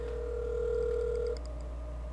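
A telephone number is dialed: a steady tone sounds for about a second and a half, then clicks off, leaving a faint line hum and a few quiet electronic beeps.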